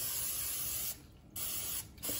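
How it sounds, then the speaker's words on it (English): Olive oil mist sprayed onto zucchini strips, heard as two long, steady pressurised hisses with a brief gap between them, close and fairly quiet, no talk. "Now I'm going to spray these with olive oil"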